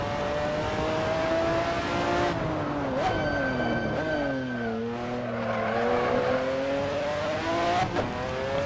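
Race engine of a McLaren F1 GTR in the video game Assetto Corsa, revving up and down through gear changes with rising and falling harmonic pitch, fairly loud and close, with no talk over it.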